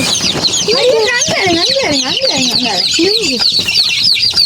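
Several chickens cluck and chirp loudly and close by in a busy, overlapping chorus of rising and falling calls with higher peeping over the top.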